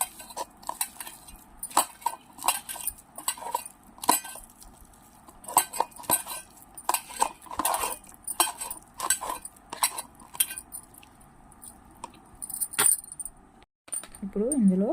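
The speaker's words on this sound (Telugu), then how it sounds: "కొంచెం క్యారెట్ అండి, ఇవి వేసి ఒకసారి కలిపేసుకోవాలండి బాగా." A metal spoon clinks and scrapes against a bowl in quick, irregular bursts while chili powder and carrot are stirred into a potato stuffing for stuffed chili bajji. The clatter is close and sharp, with short quiet gaps between strokes.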